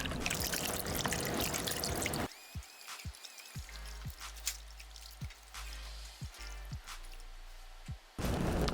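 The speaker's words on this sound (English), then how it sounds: "You then want to agitate the mixture for about 20 to 30 seconds." Silage sample stirred by hand in a small tub of water, giving a run of close drips, trickles and sloshing splashes for several seconds, with louder broadband noise at the start and end.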